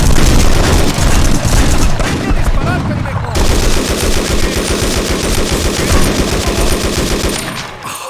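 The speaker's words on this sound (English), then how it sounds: "the super loud gunshots constantly ringing through your ears" Loud, continuous gunfire from the video game 25 to Life, with rapid machine-gun bursts and booming shots filling the whole stretch at close range.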